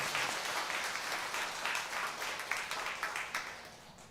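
A Sunday service congregation applauds once more, a steady wash of many hands clapping that loosens into separate claps toward the end, heard at moderate distance in a large room.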